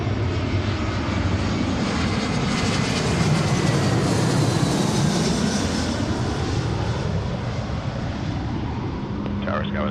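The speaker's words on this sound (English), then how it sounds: "here's our flight from San Francisco, A320 United Airlines" A United Airlines Airbus A320 from San Francisco landing on runway 34L at Seattle: a loud, sustained jet engine roar that swells as it passes near and fades slightly toward the end.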